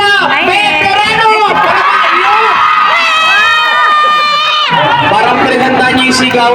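A crowd at a family reunion shouting, cheering and whooping loudly and continuously up close, with excited voices overlapping throughout.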